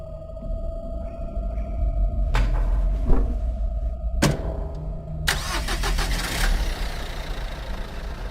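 A car engine starting in the video game Lorelai: a steady low idle hum, then several sharp mechanical clunks and a cranking burst that settles into a running engine, heard alone without talk.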